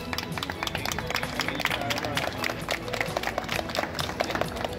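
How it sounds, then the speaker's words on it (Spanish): Participants at a jigsaw puzzle competition in Barcelona receive dense, lively applause from the crowd, with voices mixed in throughout. "Un aplauso para todos vosotros."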